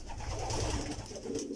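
A domestic pigeon coos softly in a pigeon loft, a low rolling call over a steady background murmur, fairly close and unaccompanied by speech.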